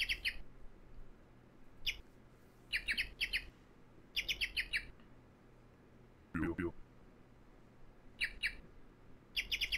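Small birds chirping in quick clusters of sharp, high tweets that repeat every second or two over a quiet, faint background.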